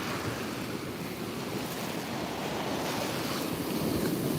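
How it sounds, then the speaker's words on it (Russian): Sea waves washing onto a shore on a rainy day, a steady close roar of surf mixed with gusting wind buffeting the microphone, no voices. "Сейчас покажу еще море."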